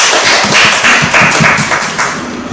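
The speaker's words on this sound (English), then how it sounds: "please give her a big round of applause" An audience at a Toastmasters club meeting gives a round of applause. The hand claps are close, fairly loud and uneven, forming a brisk, continuous patter.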